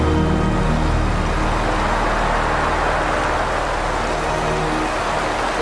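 Heavy rain pouring down in a hurricane storm, a steady loud roaring wash of broadband noise with no breaks.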